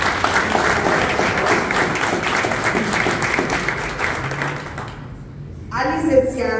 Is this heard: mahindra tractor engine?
no